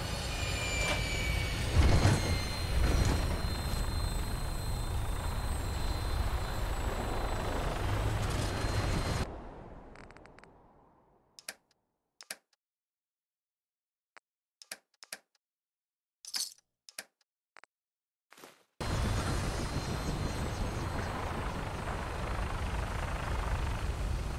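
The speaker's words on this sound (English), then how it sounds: "Prepare for landing. Touchdown could be a little rough." A vertibird aircraft in Fallout 4 comes in to land with a loud, steady rotor and engine roar that cuts abruptly to near silence with sparse clicks, then the roar returns at full strength.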